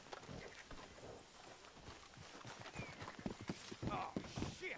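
Horses clip-clopping in Red Dead Redemption 2, a steady run of hoof falls that grows louder and more distinct toward the end, set against a busy outdoor game ambience.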